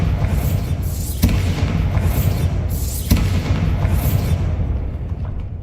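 Explosions from a Bombarda spell in the video game Hogwarts Legacy, two loud booming blasts with rumbling tails, the second around mid-clip, fading toward the end.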